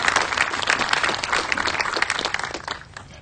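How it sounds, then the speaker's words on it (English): Audience applause at a Mahatma Gandhi statue unveiling in Clarksdale, a steady wash of many hands clapping outdoors for a few seconds before fading. "Let's give them a big round of applause"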